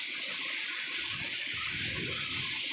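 Heavy village downpour in a yard, a steady broadband rush of falling water with splashing, moderately loud and continuous for the whole stretch.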